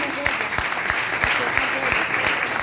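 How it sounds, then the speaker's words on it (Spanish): A church congregation claps together, steady and fairly loud, with dense crowd applause carrying through the whole short stretch and some voices mixed in. "Den un aplauso al Señor."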